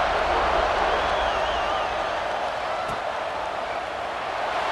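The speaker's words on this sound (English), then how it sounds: "this crowd is buzzing after that last score" Steady crowd roar from a college football stadium in EA Sports College Football 26 after a score, a dense, continuous buzz holding at even loudness throughout with no distinct voices standing out.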